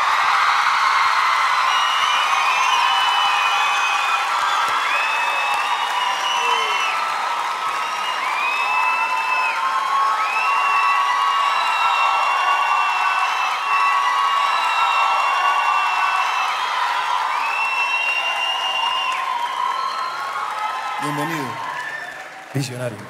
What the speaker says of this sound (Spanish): quiero pedir un aplauso, por favor,